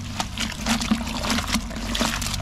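A rooting solution being stirred in a container, with soft liquid swishes and light trickling sloshes repeating in an irregular rhythm, close and fairly quiet.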